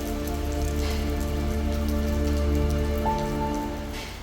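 Steady rain falls over a garden in Kottayam, a dense even hiss of drops on leaves and surfaces that holds close and constant with no voices, easing slightly near the end.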